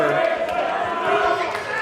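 At a VCW wrestling event, the arena crowd keeps up a loud, continuous murmur and shouting, wanting more of the match, while a commentator speaks over it.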